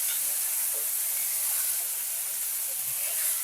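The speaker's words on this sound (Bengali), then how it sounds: "এগুলোকে আবার একটু নাড়াচাড়া করে নেব।" Okra frying with sugar and green chilies, a continuous close hiss and sizzle of hot oil with faint stirring underneath, steady throughout and without speech.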